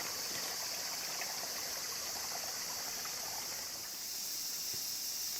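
River water flowing past a farm, a steady, even rush and trickle with a bright hiss and faint insect chirps beneath, continuous and moderately distant, no talk.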